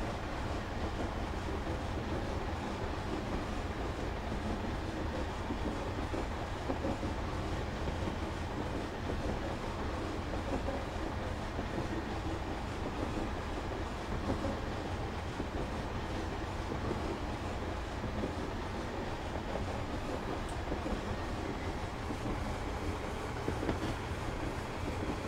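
A train from Train Simulator 2021 on the Weardale and Teesdale line runs steadily: its engine drones and its wheels rumble and clatter in a dense, unbroken roar that holds at a constant loud level throughout.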